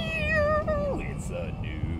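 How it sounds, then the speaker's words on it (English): A cat gives a long drawn meow, close and fairly loud, followed by softer short calls, with people talking in the background. "It's nice of your cat to help out that time."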